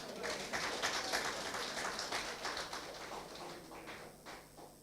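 Quiet, steady applause from an audience at a St. James North branch meeting, a soft continuous patter of many hands lasting several seconds and fading slightly toward the end.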